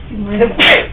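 A single short, sharp sneeze bursts out close by, preceded by a brief vocal intake.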